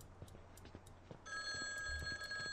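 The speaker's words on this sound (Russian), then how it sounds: "Да где звонят-то?" A cell phone rings in a kitchen in the horror game Mental Hospital IV, a steady electronic ringtone cutting in partway through and sounding clearly and continuously over quiet room ambience.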